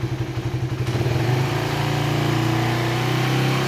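A motorcycle engine at idle, loud and close: a rapid putt-putt pulse at the start that smooths into a steady, slightly rising drone, holding evenly to the end without any voices.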